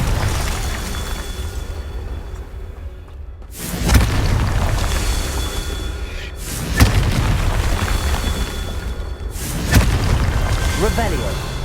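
Spell blasts from the fire spell Confringo in Hogwarts Legacy, three heavy booming explosions spaced about three seconds apart over a steady game soundtrack, each followed by a rumbling tail.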